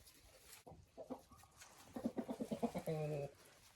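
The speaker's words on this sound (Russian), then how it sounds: "Петух гоняет индюков молодых." A rooster clucks and crows in agitated bursts close by, chasing young turkeys, with other fowl calling and scuffling around it in an outdoor farmyard in winter.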